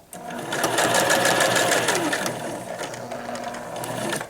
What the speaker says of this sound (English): Sew to the end, back stitch, and now it's closed.